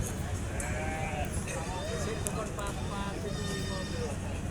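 Sheep and goats bleat repeatedly on a livestock farm, several wavering calls overlapping at moderate distance over a steady background of voices and farm noise.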